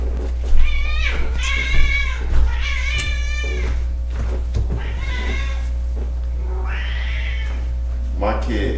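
A cat meows repeatedly in drawn-out, whiny cries, close by, with people talking over and between the calls.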